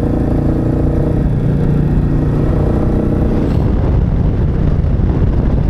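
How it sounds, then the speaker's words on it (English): A Royal Enfield Meteor 350 single-cylinder motorcycle engine runs loud and close with a deep, throbbing low rumble, steady at first, then rougher and choppier as it revs or moves off, with wind buffeting. "just let us hear the sound of the Meteor's engine"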